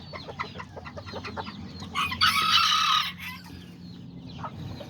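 Chickens cluck in a quick series of short calls, then a white rooster crows nearby in one loud, drawn-out call, after which soft clucking continues; no one speaks.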